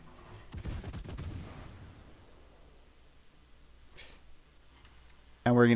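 Naval guns of the cruiser Maya fire in World of Warships: a rumbling salvo early on, a quieter stretch of fainter booms, then a sudden loud blast right at the end.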